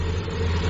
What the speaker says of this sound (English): Let's start up the bike.